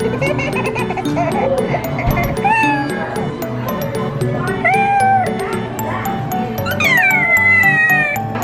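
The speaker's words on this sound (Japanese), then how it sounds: "うさぎなのに猫の声がするぬいぐるみとかにもできちゃいます。" Cat meows played from a Build-A-Bear stuffed toy inside a teddy bear workshop, several rising and falling meow calls heard clearly over steady shop background music.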